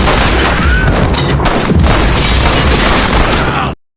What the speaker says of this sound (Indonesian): Akibat baku tembak itu, Winston tewas